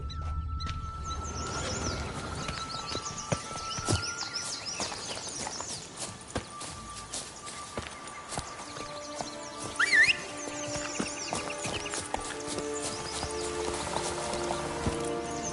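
Roach, Geralt's horse in the video game The Witcher 3, gallops with a steady clip-clop of hooves. The hoofbeats run throughout and mix with game ambience.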